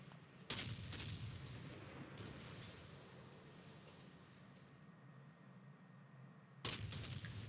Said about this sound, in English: You'll notice with them shooting at me, very good guns.